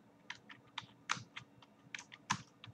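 Typing on a computer keyboard while entering text in Excel: a quick, uneven run of light clicking keystrokes, close and fairly quiet.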